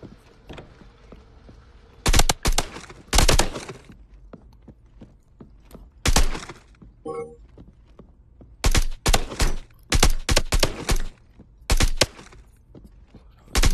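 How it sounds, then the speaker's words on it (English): Gunshots in the CQB Training Arena shooting game: loud, sharp cracks in quick clusters and short bursts separated by quiet gaps, with a faint high tonal chime between volleys. "That was a nice long shot."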